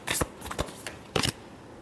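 Tarot cards shuffled by hand in a few quick riffling bursts with short pauses between, close and fairly quiet, no voice.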